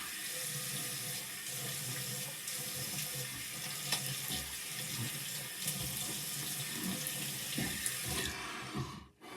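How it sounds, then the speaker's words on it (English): Tap water runs steadily from a faucet into a sink while a straight razor is rinsed after a shave, a continuous splashing hiss that stops abruptly near the end. "just gonna rinse this off"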